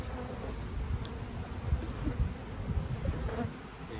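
A soft, continuous hum of many honeybees buzzing close by while a beehive is being split, with faint scattered taps and rustles underneath.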